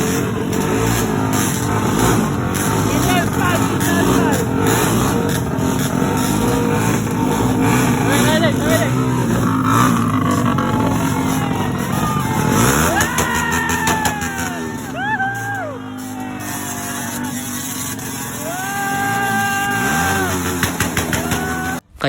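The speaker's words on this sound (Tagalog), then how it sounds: "Kaya dito ang nanalo sa slow drag itong export nila Kambal" Motorcycles, including a Raider with a carburetor and a Malaysian-spec Mio, running a slow drag contest at a motor show: engines rev and rise in pitch under constant loud crowd noise and commentary, with repeated throttle blips near the end.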